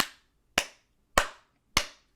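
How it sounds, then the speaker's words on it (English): Four sharp hand claps spaced about half a second apart, each a crisp, close, loud smack with a short decaying tail, heard alone with no talking. "While I'm giving an applause to Amy Coney Barrett."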